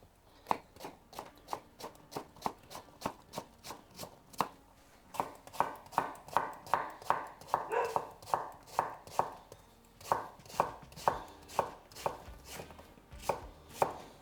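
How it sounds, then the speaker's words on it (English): A knife chops courgette on a cutting board in a steady run of sharp, close knocks, speeding into a quicker rhythm partway through, with no talking. "using the knuckle to guide the knife, and then your thumb, you want to keep it away and put it sort of at the back of the courgette"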